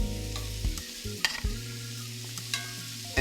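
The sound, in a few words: sauteing peeled deveined shrimp in a pan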